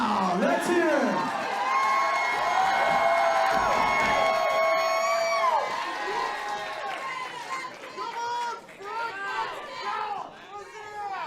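A large, noisy crowd at a slap fight championship shouts, whoops and cheers continuously, with overlapping voices loud and close throughout.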